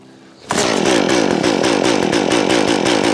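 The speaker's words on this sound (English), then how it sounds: "This saw is easy enough to start. It's not easy to start chainsaws." A small chainsaw snaps to life and runs steadily at a loud, rattling idle with a rapid pulsing throb, close by.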